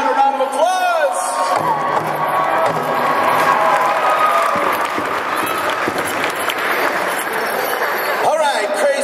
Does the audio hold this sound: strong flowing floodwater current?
no